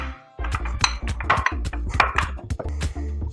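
Boiled potatoes are mashed in a bowl, a busy run of clattering and clinking utensil hits on the bowl, close and fairly loud, with no talk.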